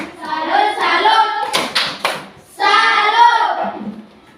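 A group of schoolchildren in a classroom claps a short rhythmic salute routine, a few sharp bursts of hand claps set between stretches of chanting voices.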